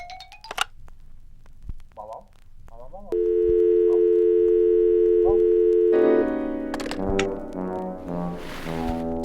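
A steady electronic telephone busy-signal tone drones for several seconds, then shifts to a louder layered tone, with brief chirps and clicks around it.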